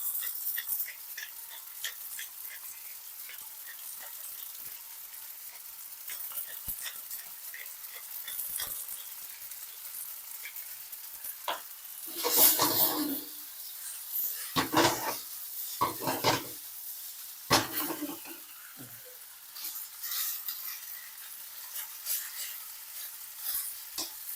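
Spicy drunken spaghetti with vegetables and blended pepper stir-fried in a hot pan, steady close sizzling with repeated scraping and clattering of the spatula, rising louder toward the middle, no talking.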